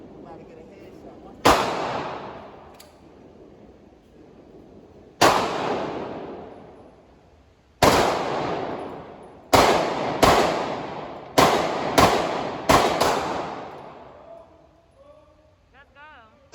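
Gunshots at an indoor shooting range: about seven loud, sharp reports, a pair spaced apart and then a quicker irregular string of shots, each with a ringing decay, with people talking faintly between them.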